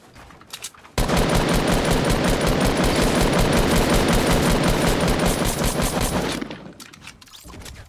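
Sustained rapid automatic gunfire in Fortnite, loud and close, runs in a dense unbroken burst for several seconds before tapering off. No talking is heard.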